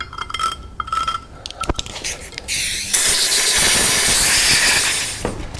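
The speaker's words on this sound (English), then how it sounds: "Just going to use a little flathead screwdriver to scrape out the bulk of this corrosion." A small flathead screwdriver scrapes aluminium corrosion from an Evinrude 150 outboard engine: first a few sharp clinks and taps, then a couple of seconds of harsh, continuous scraping close by, ending in a last brief tap.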